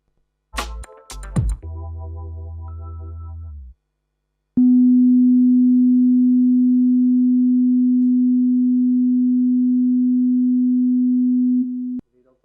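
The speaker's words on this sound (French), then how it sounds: "Vous avez entendu 250 Hz." A steady pure sine tone at 250 Hz plays alone for about seven seconds, loud and unwavering, preceded by a short burst of other electronic tones.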